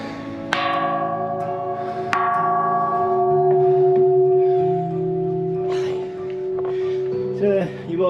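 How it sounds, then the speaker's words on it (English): A bell at a hilltop temple in Thailand is struck twice, each loud ringing strike leaving a long sustained hum that decays slowly, with a few quiet voices in the background. "I ring the bell, let everyone know I'm here."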